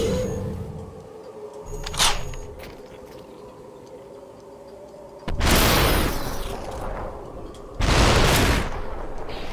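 Shotgun-wielding enemies firing in the VR shooter SUPERHOT VR: a sharp blast near 2 s, then two loud, sustained broadband bursts around 5.5 and 8 s over a low game hum.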